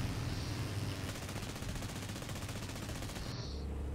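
Aircraft machine guns firing in the War Thunder air combat game, a dense continuous rattling burst that runs almost unbroken for several seconds, loud and close over engine roar.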